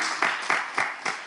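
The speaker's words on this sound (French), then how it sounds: "Applaudissez pour vous" A small studio audience on a French-language talk show applauds, heard as a few sharp, rhythmic bursts of clapping about every quarter second, close and fairly loud, with no talk.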